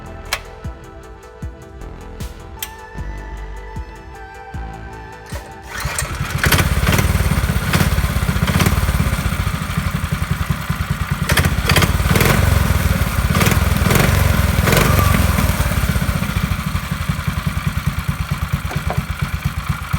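A $99 lawnmower engine fitted in a Honda Insight, heard after a few seconds of quieter mechanical sounds and clicks, then firing up into a loud, steady, close running drone that continues to the end without talk.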